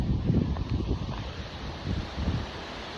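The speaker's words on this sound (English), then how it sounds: "The wind is crazy." Strong wind buffets the microphone outdoors in low, rumbling gusts that rise and fall over a constant rushing background.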